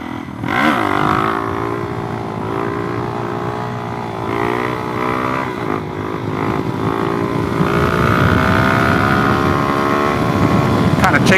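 A Suzuki DRZ400SM motorcycle fitted with a used exhaust is ridden through a wheelie, its engine droning loud and steady, then rising in pitch as it revs harder toward the end, with wind noise over it.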